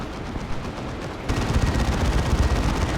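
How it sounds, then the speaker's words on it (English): Rapid, dense bursts of assault cannon fire from Space Marine units in the Warhammer 40,000 strategy game Dawn of War 2, growing louder partway through and continuing as sustained crackling gunfire with battle noise. "that assault cannon is nasty."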